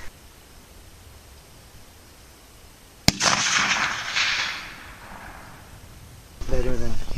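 Rifle shots are fired at a torso target at about 350 yards outdoors: one sharp, loud crack, followed by a rumbling echo and a burst of wind noise, and then talking near the end.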